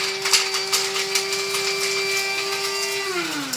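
A machine grinds horse feed with a loud, steady mechanical whine and rattle. Its pitch drops near the end as it starts to wind down.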